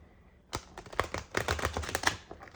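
Shiny tarot cards shuffled by hand, a short burst of crisp, rapid clicking and flicking that starts abruptly and patters unevenly for about two seconds, quiet and close.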